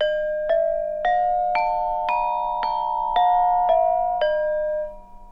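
Gamelan metallophone keys struck with a mallet and left undamped, so about nine close, bright notes overlap and ring into one another before fading at the end.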